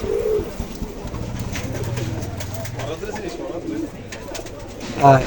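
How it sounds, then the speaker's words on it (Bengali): Several Pakistani highflyer Teddy pigeons, including a pure white golden pair, coo steadily in a loft with low rolling calls close by, over a background of other birds. "পিওর হোয়াইট গোল্ডেন দুটো কবুতর, আমি কবুতর দুটো সাইডে দেখাচ্ছি"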